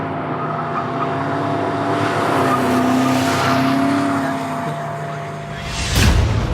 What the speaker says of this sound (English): We have commenced drifting.